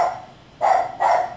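Two loud, close dog barks come in quick succession after a quieter stretch, each a sharp bark with a brief tail.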